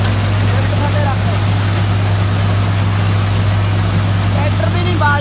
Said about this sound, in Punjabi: ਟਰੈਕਟਰ ਦੀ ਨਹੀਂ ਆਵਾਜ਼ ਸੁਣਦੀ, ਉਹਦੀ ਉਹ ਆਉਂਦੀ ਆ ਗੂੰ ਗੂੰ ਹੁੰਦੀ